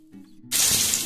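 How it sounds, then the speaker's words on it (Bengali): Thinly sliced onions dropped into hot oil: after a brief quiet lead-in, a sudden loud, broad sizzling hiss bursts out and holds steady. "এই যে পাতলা করে পেঁয়াজগুলো কেটে রেখেছি এগুলো এখন তেলে ভেজে নেব"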